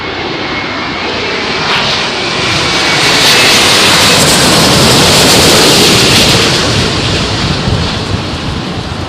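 A jet airliner lands in a crosswind at Heathrow, its engines a loud, broad roar that swells and stays steady and close for the whole stretch, with no voices over it.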